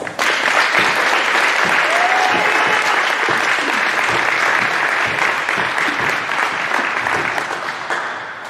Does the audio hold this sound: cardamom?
no